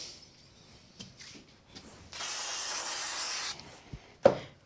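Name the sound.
spray glue sprayed onto card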